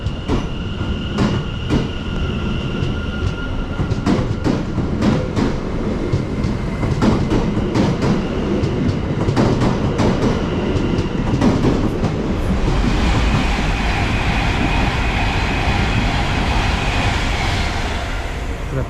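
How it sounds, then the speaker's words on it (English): A London Overground Class 710 train departs Harrow and Wealdstone station, a loud, steady rumble with rhythmic clicks and clacks from the wheels, and a brighter hum building toward the end. "About to depart now will be 710 377."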